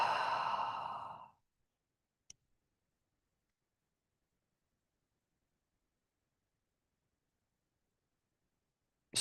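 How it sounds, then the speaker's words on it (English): A single deep breath exhaled through the mouth, a close, soft, breathy rush lasting about a second, then near silence broken only by a couple of tiny clicks. "Take a deep breath. Exhale through the mouth."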